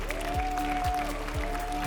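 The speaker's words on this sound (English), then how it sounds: "That's real applause" A comedy-show audience breaks into steady, dense applause that fills the whole stretch, riding over a sustained tone and a regular low thud that pulses about every half second.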